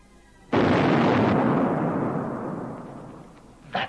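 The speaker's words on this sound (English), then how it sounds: "That, mate, was a ruddy hand grenade." A ruddy hand grenade goes off in a 1954 comedy film, a sudden loud blast with a long rumbling decay lasting several seconds, followed by a short second burst near the end.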